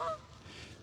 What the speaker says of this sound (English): look at the geese up here